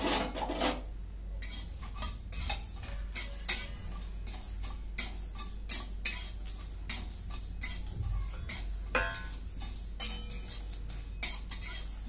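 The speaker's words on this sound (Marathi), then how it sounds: "इथे मी खसखस घेतलेली आहे थोडी, ती टाकून घेते" Poppy seeds toast in a pan for a spicy mutton rassa, with repeated clinks and scrapes of a metal spoon against the pan, close and crisp, over a faint low hum.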